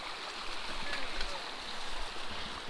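Water flowing over rocks in a stream with natural riffles in bedrock along a hiking trail, a soft, steady rushing and gurgling heard alone at low level.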